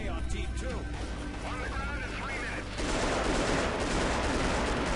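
Rapid bursts of M16 gunfire in the video game Delta Force: Black Hawk Down crackle under a voice, then a dense, loud stretch of continuous shooting takes over for the last couple of seconds.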